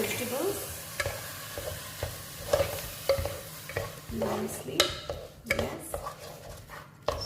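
Rice being stirred into vegetables in a pan of casserole makes repeated scraping and clinking strokes against a low sizzle, with uneven bursts that rise and fall in loudness; nobody speaks.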